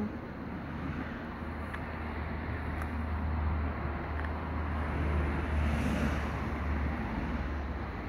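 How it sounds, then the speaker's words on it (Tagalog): Cars pass along a roadside in a continuous low rumble that swells slightly toward the middle. Wind buffets the microphone throughout and no one speaks. "nasa tabing kalsada po tayo kaya kung naririnig po niyo yung mga sasakyan nagdadaanan po ako"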